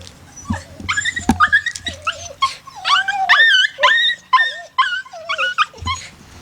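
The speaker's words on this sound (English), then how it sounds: "the dogs are happy that I'm home because you can hear them" Dogs whine and whimper in excited, high-pitched bursts with occasional yips, close by and continuous, with a few thumps underneath.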